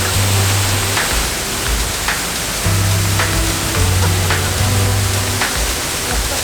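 Broadband rushing water from a waterfall near Mt. Fløyen by Bergen, Norway, steady and loud throughout, with low tonal hum layered underneath.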